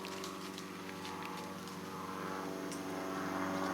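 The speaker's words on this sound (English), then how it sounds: "That freaking airplane." An airplane flies overhead above a wooded area, its faint, steady engine drone building slightly toward the end. Scattered small outdoor noises sit underneath, and nobody speaks.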